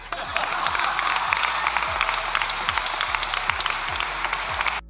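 Members of parliament applaud in the chamber, a thick, sustained wash of many hands clapping with scattered sharper claps, holding at an even level before stopping abruptly at the end.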